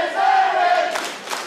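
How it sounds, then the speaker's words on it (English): A wrestling crowd at an unsanctioned main event chants in unison, a loud sustained roar of voices that swells, then breaks into shorter shouted bursts. "The crowd here are chanting, "You deserve it," to J-Sinn Sullivan."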